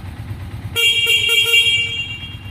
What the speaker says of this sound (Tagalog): Lakas ng busina niya mga tol.